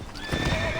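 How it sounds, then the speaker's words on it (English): A horse's hooves clop in quickening rhythm as it surges toward a gallop, with whinny-like tones over a dense, close mix. "its pace quickening until it surges into a gallop"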